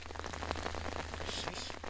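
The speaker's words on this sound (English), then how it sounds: "When dark clouds gather over the small island of Marie-Galante in the morning and rain begins to fall" Morning rain falls steadily on the small Caribbean island of Marie-Galante in Guadeloupe, a dense, even patter of drops hitting surfaces close by with no voices.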